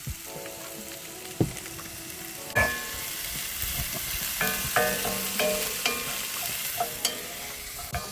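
Onions sizzle steadily in a hot pan on a camp stove, close, with intermittent scraping knocks and clinks as a utensil stirs them, and no voices.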